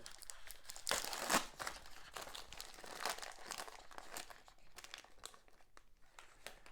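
A Wedel milk chocolate bar with strawberry filling has its wrapper torn open, giving sharp bursts of close crinkling and tearing that fade to lighter rustling.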